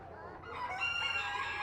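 A show chicken being groomed gives a drawn-out, rising cluck close by, a single brief call lasting over a second.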